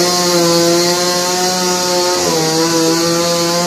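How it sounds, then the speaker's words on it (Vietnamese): A saw cuts through the trunk of a large old tree that fell in a storm at a temple. It gives a loud, steady buzzing whine that dips in pitch as the blade bites into the wood. "Giờ thợ thì cưa đang cưa để lấy cái khúc cây đó ra."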